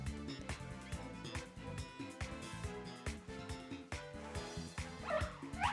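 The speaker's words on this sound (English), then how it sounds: "Is that a dog with a candle on its head?" Dog Pokémon with a candle on its head in Pokémon Violet, giving repeated short yips and barks with whimpering tones in a quick, uneven rhythm, fairly quiet and without talk.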